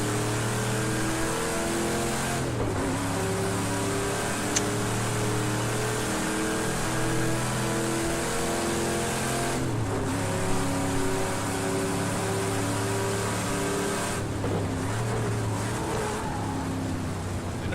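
A race car engine in the video game Project Cars 2 drones steadily, revving up and down through repeated gear shifts, with a synthetic, game-like evenness and no talk.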